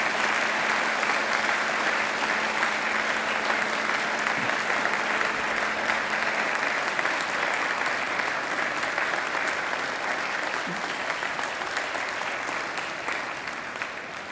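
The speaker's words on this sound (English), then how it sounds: "And now I invite you to give them a mighty round of applause." A large graduation ceremony crowd gives sustained, even applause, a dense wash of clapping that holds steady and slowly fades near the end.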